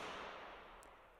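Jacket slapped once in a hallway and recorded on an iPhone, a single faint sharp crack followed by a long reverberant wash that fades over about a second.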